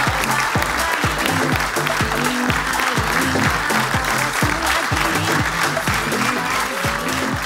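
A studio audience claps loudly and steadily, sustained applause filling the whole stretch with a dense, even wash of hand claps under a talk show's music.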